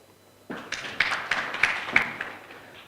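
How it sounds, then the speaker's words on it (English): An audience at a Ugandan farmers' foundation gathering claps for a team, a loose scattering of hands that starts abruptly, peaks with a few sharper claps, then thins out toward the end. "A hand of applause to that team."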